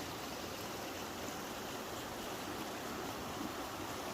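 Oak Creek near cabins in Sedona, Arizona, gives a steady close rush of flowing water, an even broadband wash with no voices over it.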